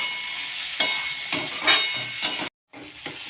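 Potato, peanuts and boiled chickpeas are stir-fried in a hot pan, giving a steady sizzle and hiss with several spatula scrapes at irregular intervals and a brief break in the sound.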